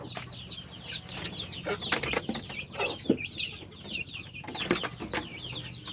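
Pet chickens and breeding fowl cluck and call repeatedly at feeding time, several birds close by in a busy, overlapping chorus with occasional wing flaps and rustling.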